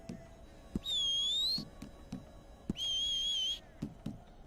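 A character whistling in the Red Dead Redemption 2 Online game: two long, sustained whistled tones, each bending in pitch, separated by a pause, with sharp clicks and taps around them.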